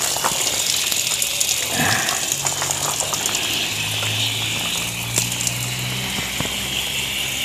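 Water poured generously over a potted aglaonema, a steady gushing stream close up that continues throughout, with a faint hum underneath.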